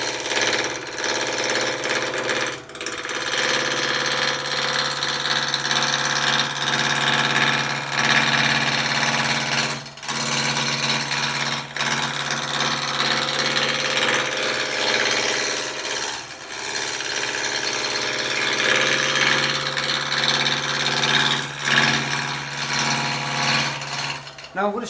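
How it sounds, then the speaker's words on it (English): A wood lathe turns a spindle while a roughing gouge cuts steadily along it, making a continuous loud rasping, scraping drone with slight dips in level throughout. "Now I'm going to stop the lathe just so you can see."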